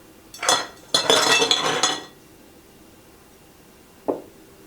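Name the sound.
ice cubes poured into a cauldron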